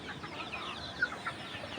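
Desi chickens in a cage clucking softly, a few faint, brief calls rising over a steady low background hiss, with no voices present.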